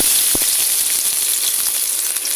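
Finely chopped garlic and ginger hiss loudly in hot oil after mustard seeds, a bright, continuous close-up sizzle with a faint tap near the start and no voices.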